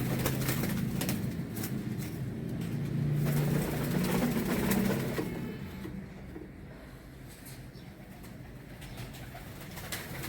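Teddy and Ferozpuri pigeons in a rooftop loft give low, steady cooing that rises for a few seconds and then settles into a softer continuous murmur, with no talk over it.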